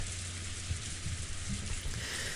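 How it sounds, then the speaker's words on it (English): Steady rain falling as a sound effect in the visual novel game Umineko, heard as a continuous broadband hiss, even and unbroken, with no voices over it. "the dining hall was simply filled by the sound of the rain"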